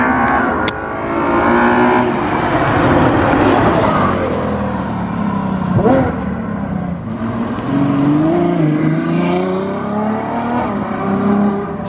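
A Ferrari FF with its exhaust valves wired open and an X-pipe fitted revs hard and accelerates past, its V12 rising and falling in loud sustained sweeps at close range.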